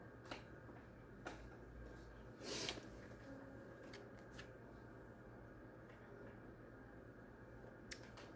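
Tarot cards shuffled in a short, faint riffling burst near the start, with a few light ticks scattered through an otherwise quiet room.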